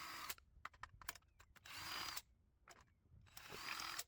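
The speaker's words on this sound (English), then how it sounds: "here's just me using a cordless drill just to loosen them up" A cordless drill whirs in short bursts and longer runs, with ratcheting clicks between, close and fairly loud, loosening rocker cover bolts on a Ford Focus Mk4 1.5 diesel.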